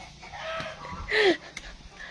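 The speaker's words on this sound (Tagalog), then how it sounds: "Yung sounds ng manok na putak ng putak." A chicken gives a short burst of clucks near the microphone, rising to a louder squawk midway, against quiet outdoor background.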